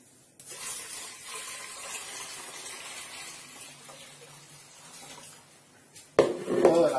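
Two litres of water are poured into lemon juice, pulp and sugar for a homemade lemon granita, giving a steady splashing pour for about six seconds that ends in a sudden louder clatter.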